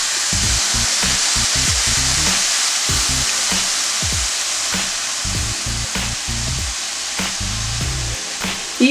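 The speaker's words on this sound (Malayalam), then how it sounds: "1/2 കപ്പ് പാലാണ് ഞാൻ ഇതിലേക്ക് ഒഴിച്ച് കൊടുക്കാൻ പോകുന്നത്" Milk goes into grated carrot roasting in a pan for carrot ladoo and sets off a steady loud sizzle and bubbling, with faint stirring scrapes and no talking.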